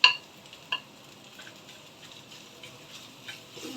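Ingredients for a chilli fish curry sauté quietly in a pan, giving a soft, steady sizzle broken by a few sharp clinks of a spoon against the pan.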